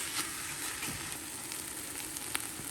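Onions sizzling steadily in a hot pan for taco soup, a continuous close, moderately loud crackling hiss with faint stirring scrapes and no talk.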